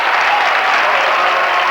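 A basketball crowd cheers and applauds in a college field house, a loud, dense, continuous roar that fills the whole moment.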